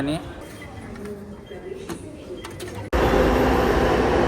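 Someone talks over a low station rumble at Majestic in Bangalore, then a metro train's loud, rushing roar suddenly swells up and holds steady near the end.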